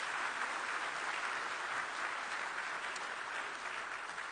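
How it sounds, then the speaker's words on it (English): An audience at a Feed Africa closing ceremony in Dakar gives Dr. Adesina a warm round of applause, a steady, dense clapping from a large hall heard at even volume throughout. "kindly give Dr. Adesina again a warm round of applause"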